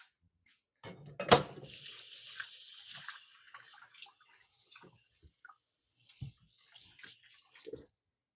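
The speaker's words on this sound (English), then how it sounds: "I'm going to go wash my hands" Hands are washed under a running kitchen tap. A sudden gush of water is followed by soft, intermittent splashing and dripping at fairly low volume, with brief clunks near the end.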